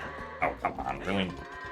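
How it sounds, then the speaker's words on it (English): Goats bleating in the Twilight Princess video game, a few short, wavering bleats close together, with game music underneath. "The first set of goats."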